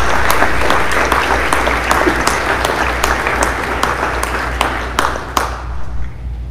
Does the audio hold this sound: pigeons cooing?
no